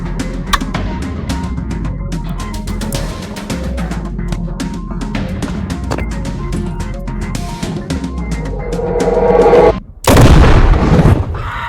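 Rapid, dense cracks and booms of fireworks go off continuously, ending in a brief pause and then a louder burst of blasts.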